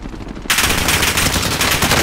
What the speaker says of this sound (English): He shot from right in front of me.